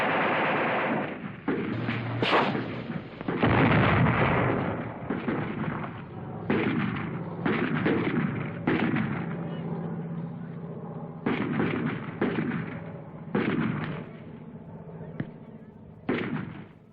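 Gunfire from 1965 Vietnam War combat, bursts of sharp loud shots and rattling volleys in an irregular rhythm across the whole stretch, some close and booming, with distant crackle between.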